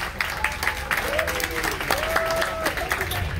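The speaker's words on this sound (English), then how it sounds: "Round of applause to let them know what a great job they have been doing." Passengers aboard the Royal Caribbean cruise ship Serenade of the Seas applaud the staff with a steady patter of clapping, while voices and cheering mix in over a low background rumble.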